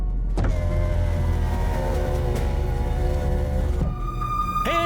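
A car's interior hum runs steadily, with the whine of a power window motor sliding up and down, first at length and then in a short final burst.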